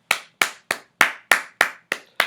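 Eight sharp hand claps ring out close and loud at an even, slightly brisk rhythm, each a crisp smack with a short decay and silence between.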